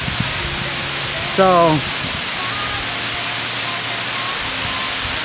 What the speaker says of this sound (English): this is the top of the waterfall